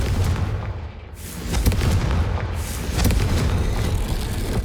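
A Confringo blasting spell explodes in Hogwarts Legacy, giving a run of heavy booming blasts and rumbling bursts that overlap into a loud, continuous roar.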